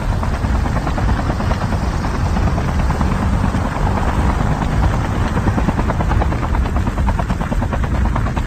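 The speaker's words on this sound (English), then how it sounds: "We can't stay on this chopper!" A video-game helicopter drones steadily throughout with rapid rotor chop and a loud engine whine, continuous and close, no voices heard over it.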